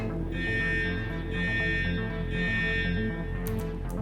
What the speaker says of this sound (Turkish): Alarm bir dakika alarm çalıyor.